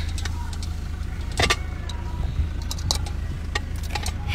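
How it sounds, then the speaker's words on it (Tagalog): A car pulls up at a home where several vehicles, including Fortuners and a pick-up, are parked, heard as a low engine rumble with a few brief clunks and rattles close by. "May isa pa palang kotseng padating."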